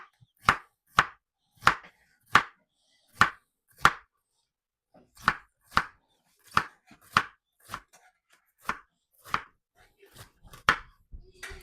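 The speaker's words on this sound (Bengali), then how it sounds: "প্রথমে কেটে নিচ্ছি, দেখেন বাগানের ফ্রেশ তিত কলা" A knife chops fresh garden bitter gourd on a board with crisp, sharp strokes, about sixteen evenly paced cuts, close and clear with a short pause partway through and no talking.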